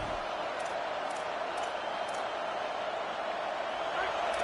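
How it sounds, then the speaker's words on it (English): A stadium crowd at a football game against FSU roars loudly and steadily behind the defense on third down, a dense, sustained wall of cheering that fills the whole stretch without letup. "Decibels rising as the crowd gets behind this defense on 3rd down"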